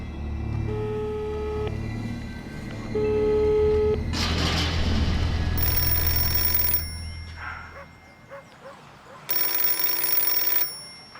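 A telephone keeps ringing indoors, repeated electronic rings in separate bursts, loud and close, with low background sounds and no clear speech.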